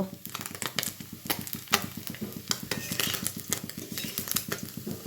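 Small mixed fish fry in a pan with a steady sizzle, while a utensil scrapes and clinks against the metal as the fish are lifted out. Close and moderately loud throughout.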